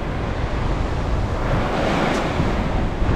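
Waves and wind at a Granada beach during surfcasting, a steady broadband rush of surf and gusting air close to the microphone, continuous and fairly loud with no voices.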